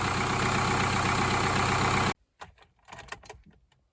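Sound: Subaru / Opel 1.7 diesel engine idling steadily

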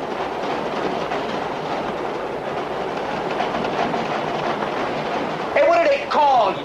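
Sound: passing train clickety-clack

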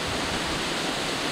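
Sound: waterfall on the Franklin River, Tasmania

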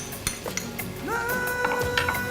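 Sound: stir-frying red and yellow curry paste in a pan

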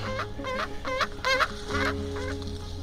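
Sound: male sage grouse at nest with hen

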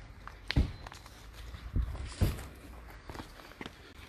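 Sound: footsteps of people walking away on foot

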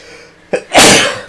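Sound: a sneeze

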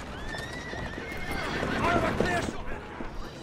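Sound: horse neighing and galloping away in Assassin's Creed Syndicate video game

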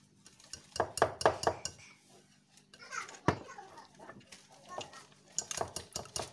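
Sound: stirring mixture in bowl while gradually adding ingredients

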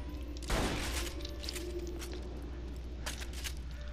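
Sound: shotgun firing in video game Borderlands 2

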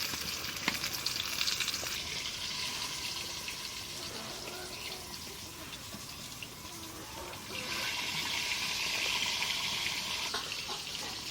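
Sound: fish frying crisp in oil

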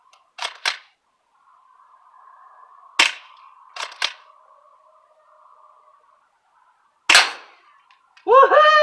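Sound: low FPS airsoft shotguns firing at night

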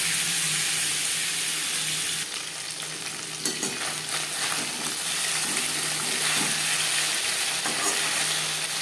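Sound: stinging catfish frying in oil

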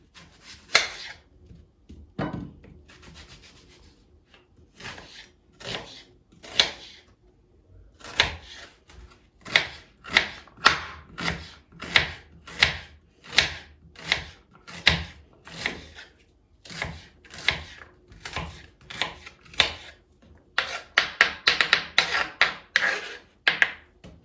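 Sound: chopping onions

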